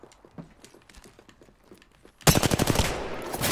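Rapid automatic gunfire from the video game Apex Legends, a loud sustained burst of dense shots that erupts suddenly after a stretch of quieter ticking and footstep-like clicks.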